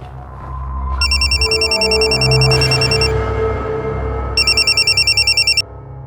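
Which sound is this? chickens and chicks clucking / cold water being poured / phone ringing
phone ringing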